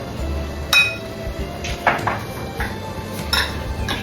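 Spoon clinking and scraping against a bowl while dumpling filling is mixed with egg, light soy sauce and oyster sauce, a few sharp metallic taps standing out over soft stirring.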